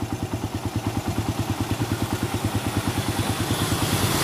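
A motorcycle engine idling at stationary RPM with the battery connected, thumping in a quick, even pulse that is close and steady and grows slightly louder toward the end.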